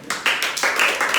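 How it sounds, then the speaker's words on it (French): Congregation clapping during a Haitian Creole church worship service, a few loud, distinct hand claps in an uneven rhythm, close by and clear with no talk over them. "Pendant chita, applaudis mon Dieu."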